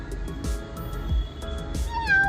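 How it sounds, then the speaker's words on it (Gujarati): A cat meows several times up close, the final call rising and drawn out, with faint background rumble. "જો આ મીંદડો બોલે"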